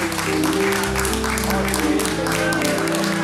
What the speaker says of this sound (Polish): Ogromne brawa dla rodziców pary młodej.